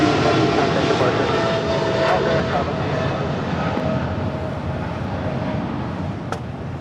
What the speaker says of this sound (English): SAS, the A350 about to make a left-hand turn onto Bravo and head to 25 right for a departure back to Copenhagen